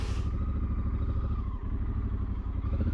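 A motorcycle rides across wet salt flats on the Salar de Uyuni, its engine a steady, loud drone from start to finish with a brief dip partway through. No one speaks.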